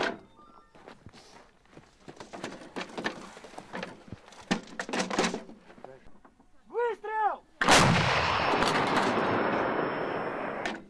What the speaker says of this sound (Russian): Орудие заряжено и наведено! Орудие! Выстрел!